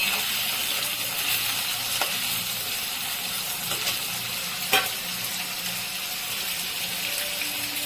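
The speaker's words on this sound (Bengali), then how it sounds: "ভালো করে লাল লাল করে ভাজবো আলুটাকে" Potato pieces frying in a pan over a lowered gas flame give a steady, close sizzle throughout, with a few faint clicks of stirring.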